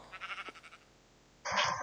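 In Minecraft, a sheep gives a short wavering bleat, then a second louder bleat follows after a brief pause. Both sound close and stand alone with no talking.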